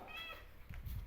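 A cat gives a short, close meow near the start, followed by low rumbling handling noise, with a bird nearby.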